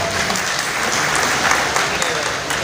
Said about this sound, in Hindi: मैं चाहता हूँ कि आप अपने इज्जत में एक मरतबा ताली बजाइए